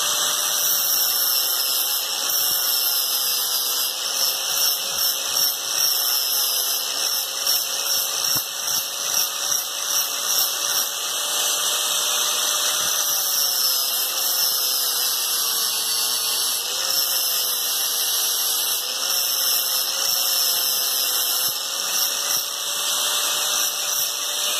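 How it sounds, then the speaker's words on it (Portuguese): A small power tool sands a miniature Harley-Davidson Sportster lever or mirror part, giving a continuous high, whining buzz that runs close and steady for the whole stretch with only slight wavering. "E agora eu vou lixar aqui, né, e dar acabamento."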